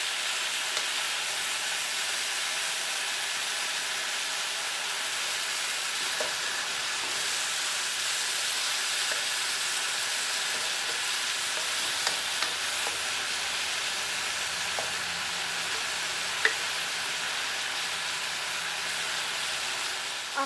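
Beef and mushrooms stir-frying in a pan for beef and broccoli, giving a steady, broad hissing sizzle that holds evenly throughout, with faint occasional stirring clicks and no voices.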